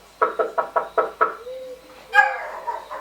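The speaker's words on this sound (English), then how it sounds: "I knocked one more time" Six quick knocks on a door in a steady rhythm, close and fairly loud, followed by a brief shuffling sound.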